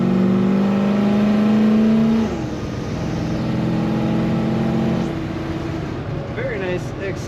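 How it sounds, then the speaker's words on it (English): A 1969 Chevrolet C10 pickup with an automatic transmission accelerates, its engine note climbing steadily and loud before a shift drops the pitch, then continuing to pull with a steady drone from inside the cab. "Very nice acceleration."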